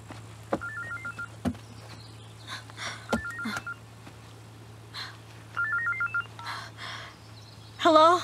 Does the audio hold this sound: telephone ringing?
yes